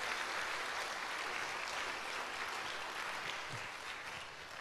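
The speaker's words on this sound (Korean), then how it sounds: "잘 오셨다고 박수 한번 주십시오." A church congregation applauds in welcome for a new education minister, a steady, even wash of clapping that holds at moderate level for several seconds and eases slightly toward the end.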